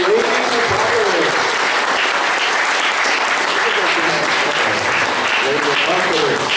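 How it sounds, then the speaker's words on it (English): A costume contest audience claps and cheers in a dense, continuous roar of applause that holds steady throughout, with voices mixed into the crowd noise. "another round of applause for Lady Apocalypse"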